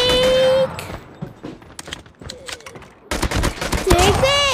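Gunfire in Call of Duty Mobile: sharp bursts of shots with clustered cracks in the middle and denser firing near the end, mixed with game effects and tonal cues.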